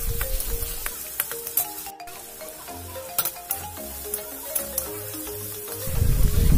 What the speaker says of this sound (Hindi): तार मध्ये देव लवण, हलुद, जिरेर गुड़ो दिए भालो करे मसलाटाके आमी कषाबो।